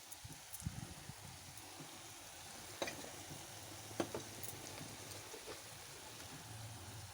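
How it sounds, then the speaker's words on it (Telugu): Bitter gourd curry frying over a low flame, with a steady soft sizzle, occasional light stirring scrapes and small taps, quiet and close with no talking. "తర్వాత స్టవ్ సిమ్లో పెట్టుకొని వేయించుకోవాలి"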